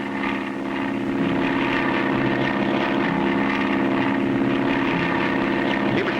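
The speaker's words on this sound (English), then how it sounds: "I see a plane up ahead, Clutch." Steady droning of a propeller airplane engine in an old cartoon about bush pilots, a continuous loud hum with a slight wavering pulse, holding evenly throughout with no speech.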